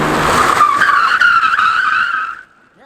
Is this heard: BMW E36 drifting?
yes